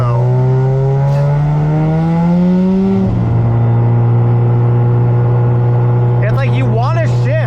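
A Mazda FD RX7 rotary engine revs and pulls away, its loud droning tone climbing in pitch and then dropping as the gear changes. It settles into a steady cruise, with a few quick throttle blips near the end.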